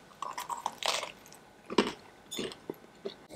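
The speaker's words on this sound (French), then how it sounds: "Goûtons ce cinnamon." Someone takes a bite of a warmed cinnamon roll with a crisp outside and chews it up close, giving a few wet crunches and chewing sounds in separate bursts with quiet pauses between them and no talking.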